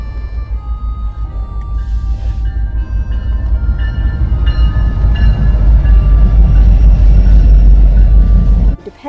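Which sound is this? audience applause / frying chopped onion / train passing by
train passing by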